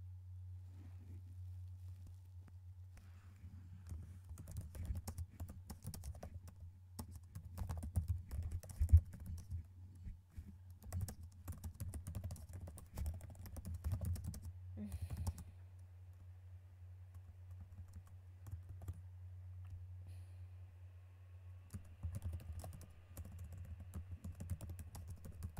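Rapid keystrokes on a computer keyboard click away in uneven bursts over a steady low hum, close and fairly quiet, with short pauses between runs of typing.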